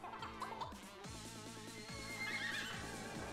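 A horse in the video game Miitopia gives several neighs and whinnies over game music, with clip-clop hooves in the background and no talking.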